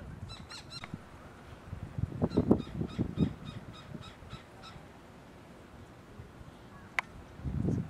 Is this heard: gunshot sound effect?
no